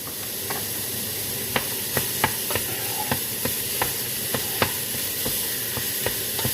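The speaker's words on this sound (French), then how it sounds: "Donc là, on mélange la viande." Ground meat frying for a bolognese over fairly high heat, with a constant hiss of sizzling and regular sharp clicks of a utensil scraping and stirring against the pan, with no talking.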